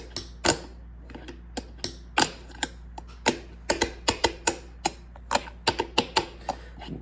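Flatface Galaxy and Outer Space fingerboard wheels clack across a surface in sharp, irregular clicks and ticks, some spaced apart and some in quick clusters, close and moderately loud over a low steady hum, with no talking.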